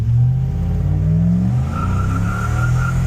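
A stock 5.7 HEMI Ram truck fitted with an Edelbrock supercharger and nitrous accelerates hard, giving a loud, continuous close-up engine roar whose pitch climbs steadily, with a thin whine above it and no talking.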